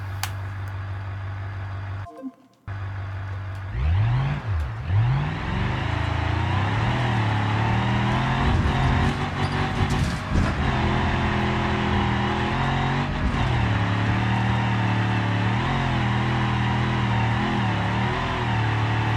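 A cargo van with a stage 1 performance 4-liter engine climbs a steep hill in a BeamNG driving game, its engine roaring loud and steady with pitch sweeps and shifts after a brief dropout near the start.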